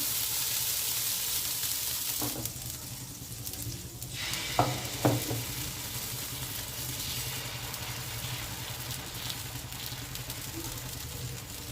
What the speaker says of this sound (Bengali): এবার একটু জল ছড়া দিয়ে দিলাম